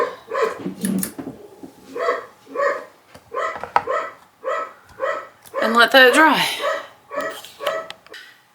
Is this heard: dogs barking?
yes